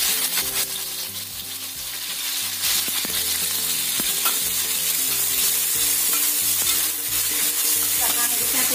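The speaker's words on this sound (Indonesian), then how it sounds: "Kita goreng dulu ayamnya" Chicken pieces frying in about three tablespoons of hot oil in a pan, a continuous loud sizzle with clinks of a stirring utensil scattered throughout and no talking.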